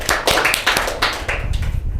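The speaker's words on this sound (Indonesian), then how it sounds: "Kasih tepuk tangan yang meriah untuk Catherine." Students clap in a classroom for a classmate who has just answered a chemistry question: a short, uneven burst of close, scattered hand claps lasting about two seconds and trailing off at the end.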